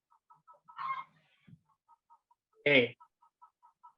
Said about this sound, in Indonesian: Suara ayam.